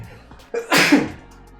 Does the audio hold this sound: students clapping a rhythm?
no